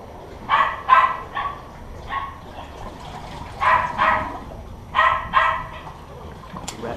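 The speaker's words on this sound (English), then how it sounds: "Rat dog making noise." A small rat dog barks near Santa Cruz harbor, bursts of two to three sharp yaps repeating several times, fairly close and loud over quiet outdoor background.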